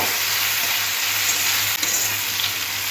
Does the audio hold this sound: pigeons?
no